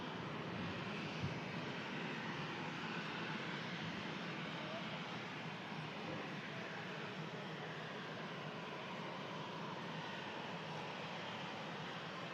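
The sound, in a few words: Ryanair Boeing 737 taxiing at Manchester Airport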